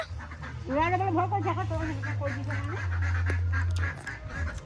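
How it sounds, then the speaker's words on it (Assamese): Ducks being let out of their enclosure in a village, a close burst of quacking calls over a low steady hum, with people talking nearby. "পেহীয়ে এয়া হাঁহখিনি উলিয়াই দিছে"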